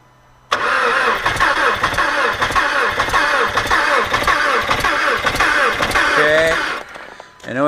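An Audi A4 Quattro 2.0L FSI engine, with its mass airflow sensor unplugged, cranks steadily on the starter for about six seconds with a rhythmic, pulsing whirr but never catches, then falls quiet.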